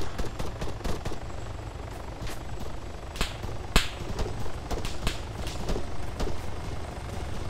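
Repeated gunfire in the video game Arma 3, scattered single shots and short bursts at varying distances crackling over several seconds, with a few louder, nearer cracks standing out.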